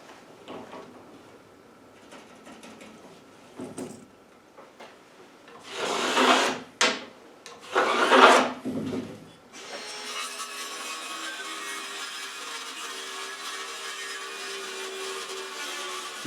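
A saw cuts a wooden board for a rabbit house, with two loud rasping bursts of cutting midway, then a steady hum of motor noise to the end.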